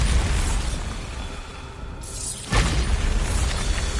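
Bombarda explosion spell detonating in Hogwarts Legacy: after a brief swelling whoosh, a loud close blast hits partway through and is followed by a heavy rumbling tail, with no voices.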